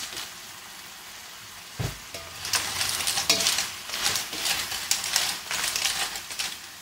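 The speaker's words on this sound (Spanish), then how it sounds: "le añadimos las almejas" Clams tossed into a hot pan with golden garlic and softening cherry tomatoes, a sharp thump as they land followed by a loud, spreading sizzle and stirring clatter up close.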